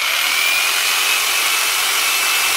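A 450W electric jigsaw motor whines steadily at high pitch, close and loud, with no cutting rhythm and no voices; the blade head is seized and not moving.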